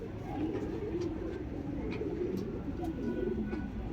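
A Makoya pigeon coos softly and repeatedly nearby, low rolling calls at a fairly faint level over a murmuring background.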